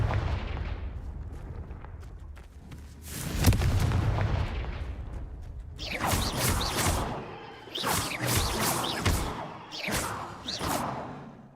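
Confringo blasting spells go off in Hogwarts Legacy, heavy booming explosions with whooshing blasts, first one long rumbling burst, then a rapid series of sharp impacts, loud and close, no speech.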